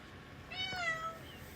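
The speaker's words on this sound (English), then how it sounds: "I don't know what my cat wants." A house cat lets out a single clear meow, close by and fairly soft, in an otherwise quiet room.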